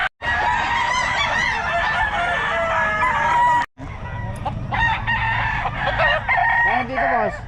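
Fighting cocks for sale at a market crow repeatedly, several loud nearby crows following one another with clucks mixed in, against a busy background of crowd chatter.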